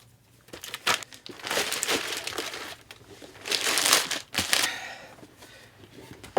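Plastic wrap and packing material around a Curry Cases walnut instrument case being cut open, heard up close as loud bursts of crinkling and crunching with short pauses between.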